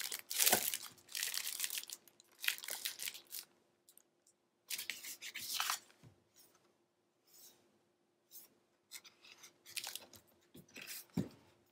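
Scissors snipping and trimming patterned scrapbook paper in short bursts of crisp cuts and paper crinkling, close and quiet, with pauses of near silence between.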